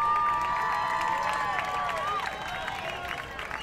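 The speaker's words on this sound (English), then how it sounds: "The cheer you hear there is for the Canadian pitcher." Spectators at a junior Canada versus USA softball game cheer and clap for the Canadian pitcher, a lively crowd swell heard at moderate distance that gradually fades, with some voices mixed in.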